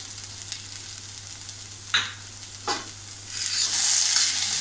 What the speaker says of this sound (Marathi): 2 मिनिटं आपल्याला ही परतून घ्यायची आहे